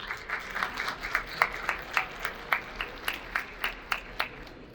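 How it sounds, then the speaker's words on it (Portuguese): Scattered audience clapping at a cattle-industry conference in Veracruz, Mexico, sounding sparse with distinct individual claps in a loose, uneven rhythm, moderately faint and without talk, as a guest speaker from Brazil is welcomed. "Un aplauso fuerte"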